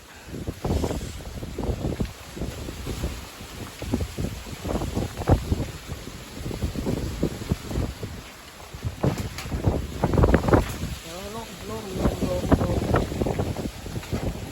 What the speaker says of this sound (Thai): เสียงลมเสียงป่า